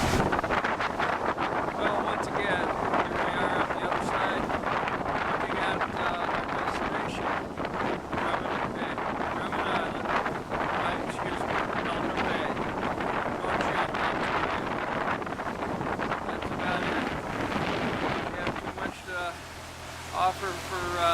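Strong wind buffets the deck of a Grand Banks 32 motoring through the North Channel of Ontario, with constant gusty roar and mic rumble. Someone talks over it throughout.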